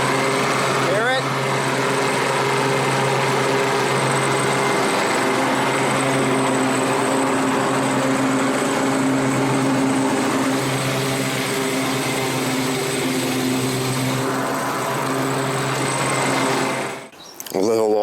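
A Craftsman 28-inch walk-behind mower drones loudly and steadily up close, its engine carrying a thin whistle and loose rattle, with someone talking over it before the noise briefly dips near the end.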